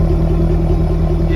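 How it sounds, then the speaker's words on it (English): A supercharged V8 exhaust on a 2015 Jaguar F-Type idles close by: a steady, deep, loud rumble with no pauses and no voices. "is a very nice V8 Supercharged engine note"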